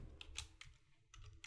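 Fingers tap out a short burst of keystrokes on a computer keyboard, irregular clicks in small clusters, quiet and close, with no one speaking.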